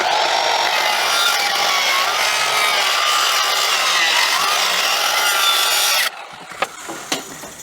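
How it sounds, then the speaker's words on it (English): A handheld circular skill saw cuts a crooked, live-edge-style line along the edge of a wooden board, a loud steady whining cut for about six seconds before it winds down to a few faint knocks. "taking a little skill saw and I'm just going crookedy down through there"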